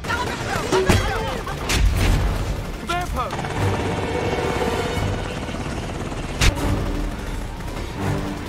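A helicopter's rotor thrums steadily with bursts of gunfire and sharp impacts, dense action-scene sound from the film Shooter with voices underneath.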